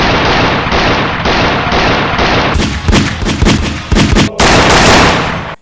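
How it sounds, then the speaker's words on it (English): Rapid bursts of gunfire ring out in close, loud clusters after a steady stretch of broadband noise, ending in a sustained roar of shots. "With just a few effects, you can make any gun fire realistically."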